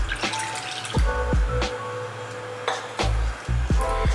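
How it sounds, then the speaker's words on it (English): About 300 ml of water poured into a kitchen bowl, heard as close splashing with a series of bright, bubbling plops and gurgles in an irregular rhythm. "In a bowl, we add 300 ml of water."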